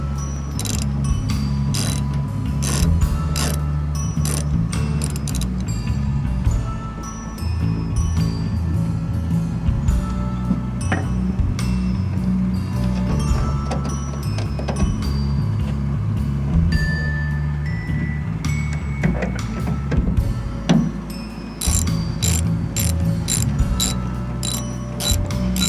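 A ratchet wrench clicks steadily while loosening the tail light bolts on a 1997 Ford F-150, its rapid pawl ticks repeating in bursts with faint metallic clinks close to the mic and no talking.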